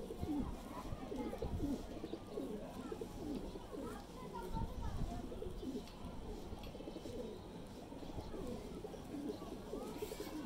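Several Teddy pigeons coo continuously in soft, low, throaty murmurs nearby at a breeder's loft in Lahore, with faint voices mixed into the background.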